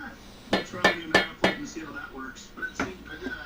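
A spoon stirs ingredients into a homebrew saison pot, knocking sharply against the metal several times in quick succession before fading into lighter scraping and clinks.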